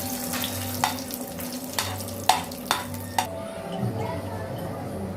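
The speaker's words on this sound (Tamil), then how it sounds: "அதே நெய்யில் எடுத்து வச்சுருக்க திராட்சையை லைட்டாக வறுத்து எடுத்துக்கோங்க." Raisins lightly frying in ghee in a pan: a steady soft sizzle with several sharp utensil scrapes and taps at irregular intervals, close by.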